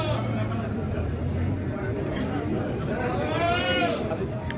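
Goat at a Pakistani goat market in Haripur, probably a Beetal, giving a single wavering bleat near the end, heard beneath someone talking nearby and steady crowd chatter.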